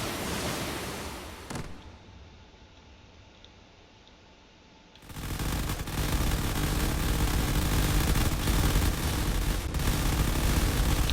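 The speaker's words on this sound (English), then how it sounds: "there are missiles being fired back and forth at this point" Missiles firing in a video game space battle: a roaring rushing blast that fades to a low rumble, then a sharp new surge into a sustained loud noisy barrage with crackling bursts.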